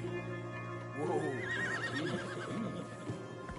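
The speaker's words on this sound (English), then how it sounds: "Marston, you're gonna tether him up to Javier's horse" Horse neighing and whinnying in Red Dead Redemption 2, a drawn-out whinny with a few shorter snorts after it, heard over a steady game ambience with voices talking.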